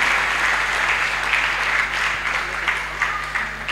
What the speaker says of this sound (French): Acclamez, acclamez pour Jésus